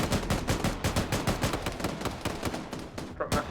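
Rapid bursts of automatic gunfire from militia fighters in the military shooter Arma 3, dense repeated cracks fairly close, with a brief lull and a final shot near the end.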